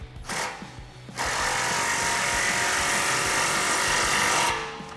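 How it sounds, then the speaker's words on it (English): A 15 mm socket tightens an exhaust clamp on a Borla ATAK cat-back exhaust for a 2016-2023 Camaro SS, giving a brief ratcheting burst followed by a long, loud, steady grinding whir that stops abruptly. "tighten it down with our 15 millimeter socket"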